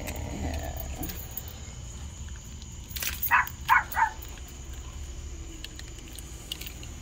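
A dog left home alone barks from behind a door in the evening. Three or four quick, muffled barks cluster in the middle of the stretch against a quiet background.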